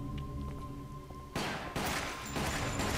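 Gunfire from the video game Resident Evil: The Umbrella Chronicles, two sharp loud shots about half a second apart breaking through a steady low in-game background hum.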